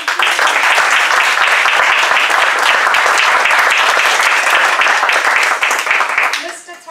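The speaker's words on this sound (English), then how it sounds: "So can we give a round of applause again?" Loud, close applause from a meeting audience thanking its speakers, dense continuous clapping sustained for several seconds before fading out at the end.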